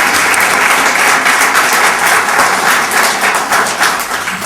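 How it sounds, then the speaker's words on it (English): An audience at a poetry reading applauds steadily, a dense wash of clapping that holds for several seconds and starts to thin slightly near the end. "Let's give another round of applause for"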